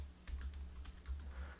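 A handful of light keystrokes on a computer keyboard tap out close and quiet over a low steady hum. The sharpest click comes last, and no one speaks.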